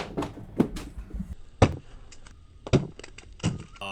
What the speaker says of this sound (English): one easy way to squeeze the frag ball is just to throw it against a hard surface